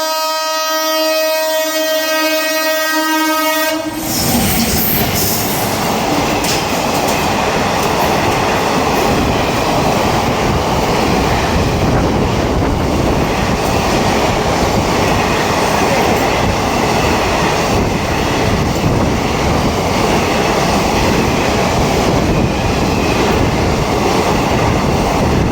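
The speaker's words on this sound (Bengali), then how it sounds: "এই মুহূর্তে আমাদের সামনে দিয়ে আসছে আমাদের প্রথম special train Gangarampur Kolkata TOD special" A long horn blast sounds at night, then the Gangarampur–Kolkata TOD special express thunders past at Birnagar, with a loud, sustained roar and rattle of wagons on the rails that lasts to the end.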